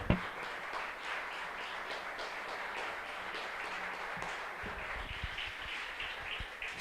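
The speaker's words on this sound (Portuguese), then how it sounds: "Vamos aplaudir o Senhor." A church congregation applauds in praise to the Lord during a Portuguese-language evangelical service, a steady wash of many hands clapping at moderate distance that continues evenly without voices on top.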